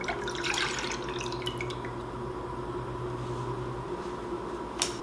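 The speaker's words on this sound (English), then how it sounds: "So we're just going to pour that in the pan." Rhubarb juice from last year's batch pours into a pan in a home kitchen, a steady liquid trickle and splash running continuously for several seconds, fairly quiet with a faint hum underneath and a brief clink near the end.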